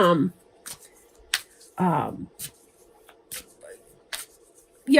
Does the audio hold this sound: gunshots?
no